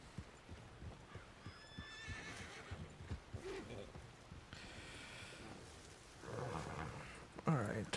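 A herd of wild horses in the RedM video game, with hooves clip-clopping in quick irregular beats and a couple of whinnies, while a voice murmurs faintly underneath and rain-like noise swells near the end.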